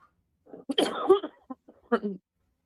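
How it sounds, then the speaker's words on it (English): Two rough, hacking smoker's coughs come close together, chesty and raspy, followed by a shorter gravelly cough after a brief pause. "That's a smoker's cough."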